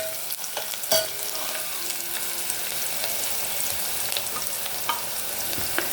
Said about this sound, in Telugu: ఇప్పుడు సన్నని ఉల్లిపాయ ముక్కలు వేసి బాగా వేగనివ్వాలి.